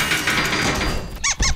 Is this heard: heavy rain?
no